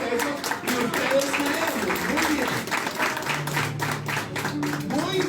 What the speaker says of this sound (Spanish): Denle un aplauso ustedes a ellos